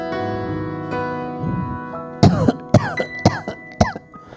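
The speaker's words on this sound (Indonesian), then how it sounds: "kakek jadi batuk-batuk" An elderly man coughs in a church Christmas Sunday school service, several sharp, close coughs in an irregular cluster after a sustained musical tone, with no talking.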